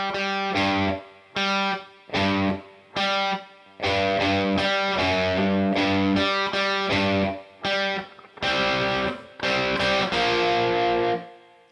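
A riff played on electric guitar through the crunch channel of a Boss Katana Mark II amp, distorted chugging chords in short repeated stabs with brief gaps, loud and alone.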